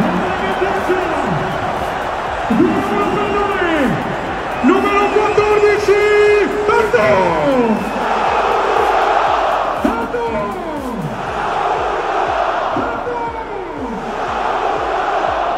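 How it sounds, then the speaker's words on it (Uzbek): Thousands of football fans at Rome's Stadio Olimpico chant a player's name, Shomurodov, in loud, rhythmic swelling calls repeated roughly every two to three seconds over a constant roaring crowd. "Minglagan muxlislar Olimpico stadionida Shomurodov deya hayqirib, o'zbekistonlik gladiatorni olqishladi."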